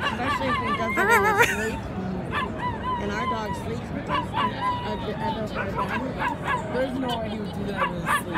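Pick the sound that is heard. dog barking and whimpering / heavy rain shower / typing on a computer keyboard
dog barking and whimpering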